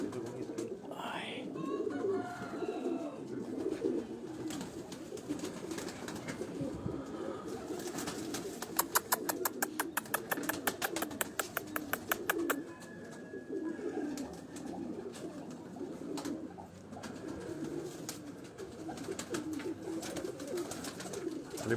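Pigeons at a loft in Dharampura, Lahore, soft repeated cooing at moderate distance under faint background noise, with a burst of rapid clattering midway.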